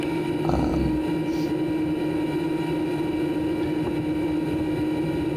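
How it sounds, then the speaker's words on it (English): A CYC Photon e-bike motor runs at nearly full throttle, drawing about 17 to 18 amps, giving a steady, loud whine with a constant hum and road and wind rumble throughout. "we're on pretty much full throttle coming through here, and it pulls around 17-18 amps"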